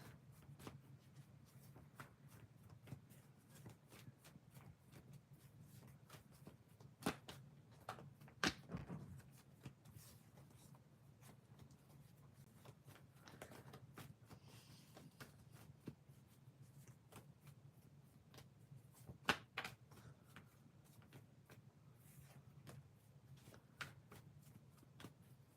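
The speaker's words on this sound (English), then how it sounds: "Give me one moment to shuffle the cards." Tarot cards shuffled by hand during a live reading, soft riffling and sliding in scattered bursts with sharper taps, quiet and close over a low steady hum, no talking.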